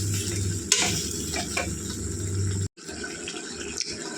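Chicken pieces coated in ginger-garlic paste sizzle steadily in a pan while a spoon scrapes and stirs through them, with a brief clatter near the start and a short drop-out midway.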